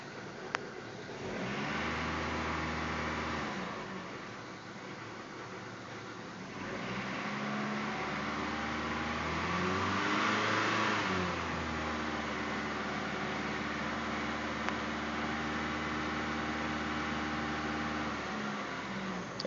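A 1995 Dodge Stratus 2.0 with a five-speed manual idles after a cold start on a freezing day, a steady engine hum with a gentle rise and fall in revs partway through and no voices.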